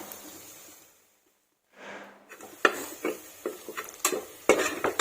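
A spoon scraping and clinking against a pan while coriander powder masala is stirred, a few sharp irregular knocks and scrapes after a short quiet pause, close and fairly soft.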